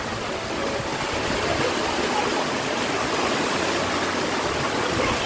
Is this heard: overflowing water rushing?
yes